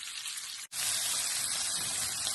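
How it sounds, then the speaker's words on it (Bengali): Dried fish and onions frying in a pan: a brief quiet gap, then a loud, steady hiss of sizzling oil that carries on without a break. "এখন ভালো করে বাজা হচ্ছে।"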